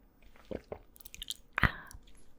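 Close, quiet chewing of a homemade brownie with a few soft bites and one louder crunchy bite, set against near silence in an intimate ASMR eating session.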